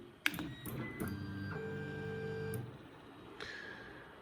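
A 3D printer with extended heated beds moves after homing, its stepper motors whining in steady tones, punctuated by sharp clicks and a brief pitch change near the end.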